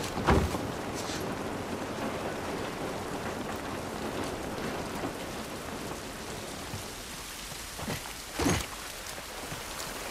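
Steady rain patters on surfaces in the video game The Last of Us Part 1, with a few sharper droplet hits and a louder splash near the end, no voices.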